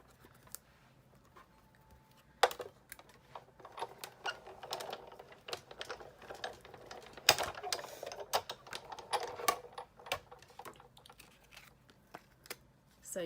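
A Sizzix die cutting machine runs card and maker's tape through its rollers, giving faint, irregular clicking and crinkling rattles that continue under quiet room noise.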